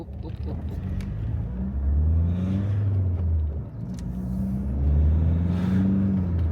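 A car engine revs up and down in two long surges, a deep rumbling drone close by with light road noise.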